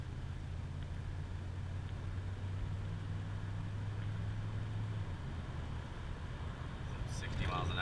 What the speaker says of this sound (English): I'm going to give it just medium throttle